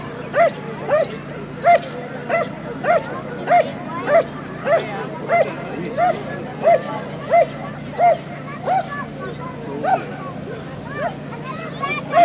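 Police K9 dog at a night-out demonstration barking in a steady run of sharp, evenly paced barks, moderately near, over crowd babble and a low constant hum.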